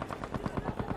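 VGO light machine gun firing in Battlefield V, a rapid, evenly spaced burst of about nine loud close shots with no pauses.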